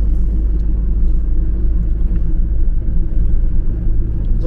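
A Mercedes Vito van rolls along a rough road, heard from inside the cabin as a heavy, steady low rumble of engine and road noise throughout, with no talking.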